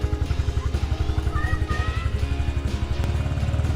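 Small fuel-injected Honda CRF110 pit bike engine running steadily while being ridden, a close, continuous low pulsing putter with slight throttle changes.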